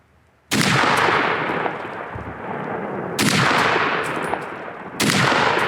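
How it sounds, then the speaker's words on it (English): Three loud, sharp rifle shots from a Browning BAR fired with open sights at a target about 100 yards out, spaced roughly two to three seconds apart, each ringing out with a long outdoor echo and no talk. "we'll see what kind of group we get with these open sights"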